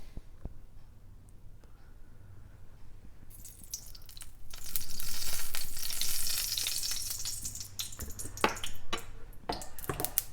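Canola oil sizzles in a heated pan, a steady crackling hiss that swells louder midway and stays close and continuous, with no talking.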